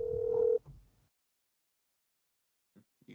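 A single ring tone sounds on an outgoing phone call, a short steady buzzy tone lasting about half a second. Near silence follows with faint murmurs at the end.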